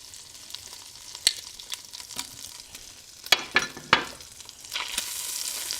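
Butter melting in a hot Dutch oven with a soft sizzle, broken by a few sharp clinks and scrapes of a utensil against the pot, close and otherwise quiet.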